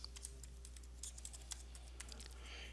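Someone types on a computer keyboard. Quiet, quick, irregular key clicks sound close by over a faint hum.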